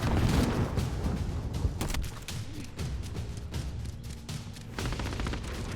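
Pistol fire in the video game Warzone, a dense run of rapid sharp cracks and booms from gameplay, moderately loud and continuous throughout with no talk.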